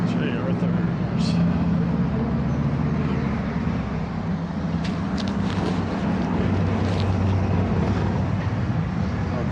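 Motorcycles riding into Maggie Valley town, a steady loud drone of engines and road noise continuing throughout, with brief higher-pitched passes over the rumble and voices mixed in.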